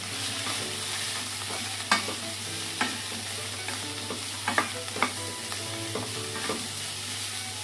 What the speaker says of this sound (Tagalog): then we're going to stir this one